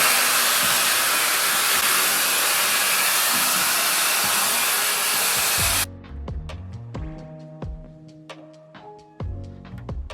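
A Luxx Air Pro 2 hair styler blows a steady, loud broadband rush of air for about six seconds, then cuts off abruptly, leaving softer clicks and tonal background sounds.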